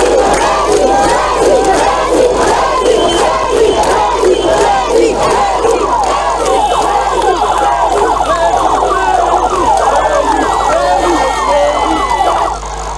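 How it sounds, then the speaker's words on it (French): A large crowd loudly acclaims President Alpha Condé as he leaves a house of worship, with dense cheering, shouting and ululating voices layered with shrill whistles or horns, sustained and close throughout. "professeur Alpha Condé a eu droit à une belle foule de populations venues l'acclamer"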